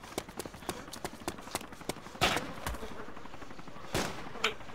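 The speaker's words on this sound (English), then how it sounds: "Who's shooting and from where?" Gunfire in the Arma 2 DayZ mod: a rapid string of sharp, evenly spaced shots, then a few louder, heavier reports spaced further apart, heard without talk.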